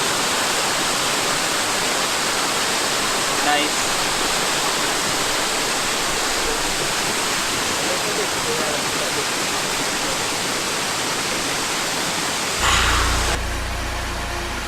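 Steady broadband roar of a waterfall on a Virginia hiking trail, loud and continuous throughout, with a person's brief exclamation near the start and a short cut to a different noisy scene at the end.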